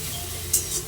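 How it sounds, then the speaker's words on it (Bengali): Leafy greens (shak) frying in a pan and being stirred, heard as a soft steady sizzle with a brief scrape of the utensil partway through. "শাক ভাজাটা হয়ে এসছে"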